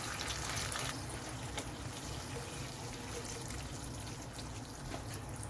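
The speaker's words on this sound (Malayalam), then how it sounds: "അപ്പോൾ നമ്മളിതിലേക്ക് ഒരു ഒന്നര കപ്പ് വെള്ളം നമുക്ക് ഒഴിച്ചു കൊടുക്കാം" About one and a half cups of water are poured into a pan for corn uppuma, a soft, steady trickle and splash that runs on quietly for several seconds with no talking.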